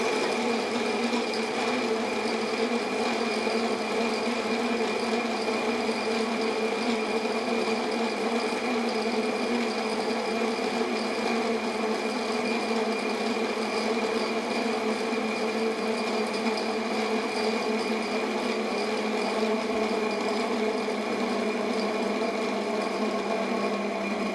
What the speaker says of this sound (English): I'm going to go ahead and drop this into my grinder here